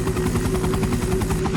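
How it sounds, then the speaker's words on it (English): A helicopter flying off in a Resident Evil cinematic, with a steady close rhythmic rotor chop and engine drone. "Then helicopter pilot Brad Vickers flies off."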